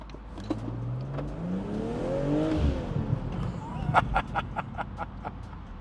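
A 2023 BMW M440i accelerates hard in Sport Plus mode, its engine note climbing steeply in pitch for about two seconds before easing off, loud and close, followed by a burst of sharp rhythmic clicks.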